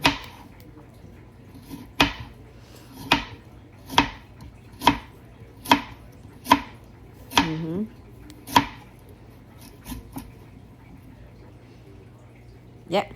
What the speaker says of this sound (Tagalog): So gagayatin natin siya ng maninipis. Maninipis lang.